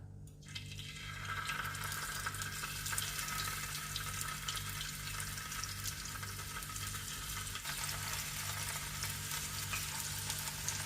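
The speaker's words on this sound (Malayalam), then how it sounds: "അതിലേക്ക് നമ്മൾ മാരിനേറ്റ് ചെയ്ത് വെച്ചിരിക്കുന്ന മീൻ ഓരോന്നായിട്ട് ചേർത്ത് ഫ്രൈ ചെയ്തെടുക്കാം" Marinated anchovies frying in hot oil, a continuous crackling sizzle that swells up within the first second and then holds steady and close, over a faint low pulsing hum.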